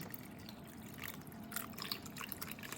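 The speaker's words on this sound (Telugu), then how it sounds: "కొంచెం నీళ్ళు పోసి" Water poured from a vessel to rinse ingredients for sweet rice pudding, a faint, steady trickling and dripping against a soft, noisy kitchen background.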